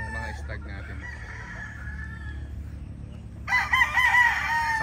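Young roosters, stags, crow on a farm, a loud close crow bursting in after a low background murmur and faint clucking, with a rumble underneath throughout.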